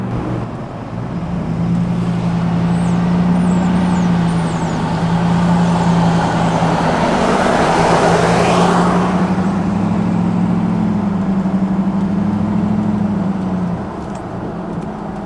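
Highway traffic on an interstate, including a 2020 C8 Corvette in Accelerate Yellow, makes a steady loud roar and hum that swells as a vehicle passes close by midway, then eases back.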